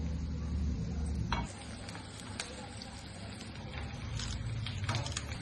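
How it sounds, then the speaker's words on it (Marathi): Onion frying in a pan while chole bhature is cooked, a steady soft sizzle with a brief clatter and scattered crackles partway through, light talk underneath. "कांदा आता फ्राय होत आलाय ना आपला"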